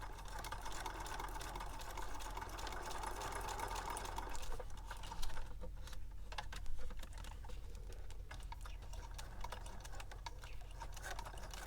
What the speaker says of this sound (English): Now I'm going to go ahead and stitch.